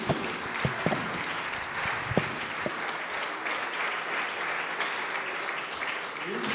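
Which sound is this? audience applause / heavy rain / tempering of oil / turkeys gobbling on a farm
audience applause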